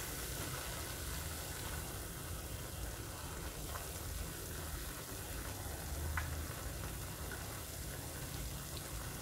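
Bitter snails stir-frying with lemongrass and chili give a steady, fairly quiet sizzle that holds evenly throughout, with no speech.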